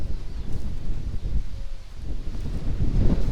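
Strong sea wind buffets the microphone in heavy, gusty rumbles at a rural plot near Gönen, Turkey, with faint rustling beneath and no speech.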